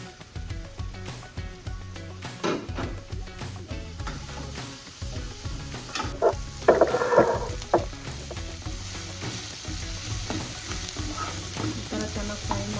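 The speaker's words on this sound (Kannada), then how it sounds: "ಈ ಥರ ಚೆನ್ನಾಗಿ ಫ್ರೈ ಮಾಡ್ಕೊಂಡಾದ್ಮೇಲೆ" Tomato, garlic and rice masala frying in a pan with chili powder, garam masala and turmeric: a close, continuous crackling sizzle with repeated scraping and knocking as a spoon stirs, swelling louder midway, no talking.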